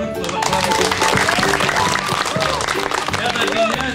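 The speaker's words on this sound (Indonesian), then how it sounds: "terutama Pak Brandon CR, tepuk tangan dulu Bapak" Audience applause rolls steadily throughout at a 2015 Puslit Arkenas outbound gathering, a dense continuous patter with people talking and voices carrying over it.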